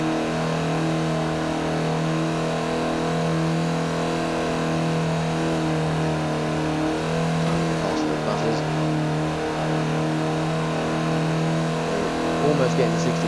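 A small car's engine in Forza Horizon 4 holds a steady drone while cruising around 60 mph, with a rich harmonic hum and little change in pitch. A voice talks over it.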